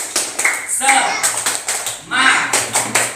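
A school class claps a rhythmic 'tepuk semangat' chant during a microteaching lesson, sharp clustered claps in patterned bursts with a brief pause, while voices chant along over the clapping.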